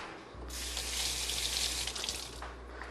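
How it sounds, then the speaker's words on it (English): A kitchen tap runs steadily into a sink while hands are quickly rinsed, a close, even rush of water with slight splashing shifts, and no talking. "let me just give my hand a quick rinse"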